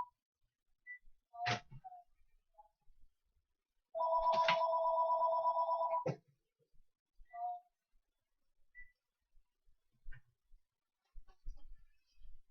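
A phone rings with an incoming call: a steady two-second electronic ring tone sounds once, surrounded by scattered faint clicks and quiet background noises, with no talking.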